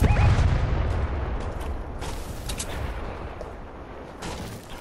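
Gunfire in the Fortnite video game, a dense burst of loud booming shots at the start that fades into scattered, sharper distant reports over a rumbling background, with no talking.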